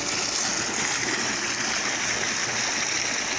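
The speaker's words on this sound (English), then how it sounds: "Then maybe the waterfall." A backyard pool waterfall runs steadily, a loud and constant splashing rush of falling water with no pauses and no voices.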